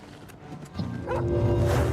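A dog barks in the video game Oblivion Remastered, a few yips and woofs rising from soft to louder over a steady game ambience with music-like tones.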